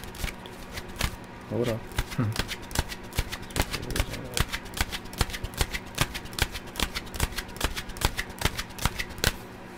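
Tarot cards are shuffled and cut with a steady run of crisp, close riffling clicks and flicks that fills the whole stretch, while a person speaks briefly over the handling.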